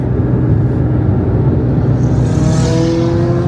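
A McLaren 675LT supercar rumbles up close alongside, its engine a loud, steady low drone with a rising whine toward the end.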